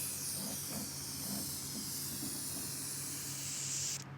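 A steady, close hiss of aerosol spray is directed into a window channel inside a Wanderlodge bus, running continuously for several seconds before cutting off abruptly at the end.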